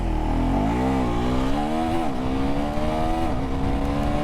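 A KTM Duke 390 motorcycle revs hard for a launch wheelie, its engine note climbing and wavering in a loud, close, sustained roar, with no speech.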